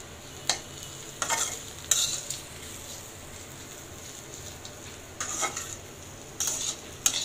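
Bitter gourd (karela) stirred in hot oil in a pan, a soft steady sizzle broken by several brief scraping bursts of the spatula, fairly close and moderately quiet, with no talking.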